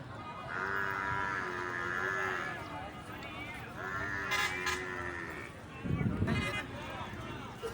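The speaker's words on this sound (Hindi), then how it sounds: "भैंसें भी बड़ी बड़ी प्यारी भैंसें आई हुई हैं आज मंडी में।" Buffaloes low at an outdoor livestock market, with two long, deep moos in a row and a crowd's chatter and bustle filling the background.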